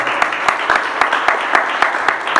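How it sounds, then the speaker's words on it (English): Applause from an audience at a community forum honoring the event coordinator, a steady wash of overlapping claps with sharper individual hand strikes standing out at regular intervals, moderately loud and close. "deserving of a round of applause as our event coordinator extraordinaire"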